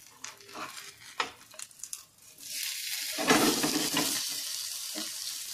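Semolina uttapam sizzling in a pan after being flipped: a few clinks and scrapes first, then a steady, loud frying hiss that carries on to the end, with no talk.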